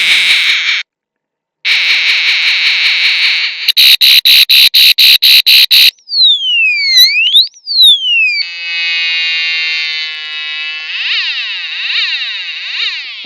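A DIY 16-sound music box kit runs through loud synthetic electronic sounds up close: buzzing chirps, a rapid pulsing beep train, swooping siren wails and warbling tones, with a brief silent gap early.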